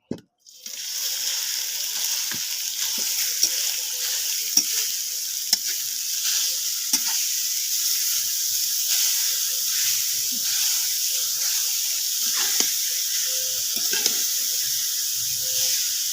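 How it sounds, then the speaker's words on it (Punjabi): Steady hissing sizzle of grated carrots frying in ghee in a hot pan, with occasional soft scrapes and clinks as it is slowly stirred; no voices. "ਲਓ ਜੀ ਗਾਜਰਾਂ ਦਿੱਤੀਆਂ ਆਪਾਂ ਤੇ ਇਹਨਾਂ ਨੂੰ ਹੌਲੀ ਹੌਲੀ ਹਿਲਾਉਂਦੇ ਰਵਾਂਗੇ"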